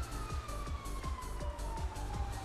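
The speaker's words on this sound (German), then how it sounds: "ich höre schon wieder Blaulicht, also Sirene" Police siren in a GTA roleplay game, a steady wailing tone that slowly falls in pitch, heard at a distance and fairly faint under a low rumbling engine and repeated thumping game sounds, with no talking.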